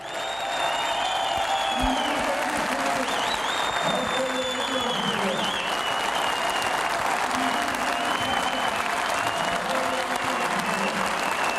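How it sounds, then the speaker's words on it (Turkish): Steady, dense applause from a large party congress audience in Kırşehir fills the hall, with crowd voices and shouts rising over the continuous clapping. "Şimdi bir de Kırşehir'i ayakta görelim ve alkışlayalım."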